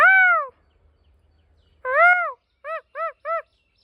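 Peacock calls near a hilltop temple: one long loud wailing cry, a second rising-falling call after a quiet gap, then three short clipped honks in quick succession, clear and fairly close with no talk.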